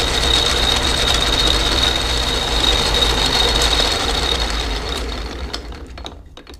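A homemade wood lathe running at higher speed, a loud steady mechanical whir and rattle with a thin high whine that holds, then fades and thins out in the last seconds, with no talking.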